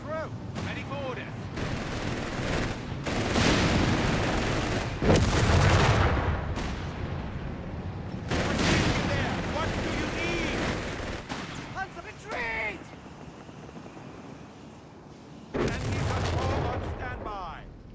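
Machine gun fire and heavy battlefield shooting in the strategy game Company of Heroes 3 arrive as long, loud rattling bursts with booming hits, separated by short quieter gaps.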